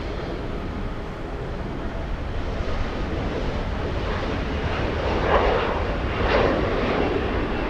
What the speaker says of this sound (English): 787 taking off in the south side